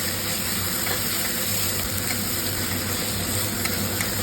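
Green chili, ginger and tomato paste fry in hot oil for a Bengali raw banana curry, giving a steady, close, dense sizzle that holds at an even level throughout with no talking.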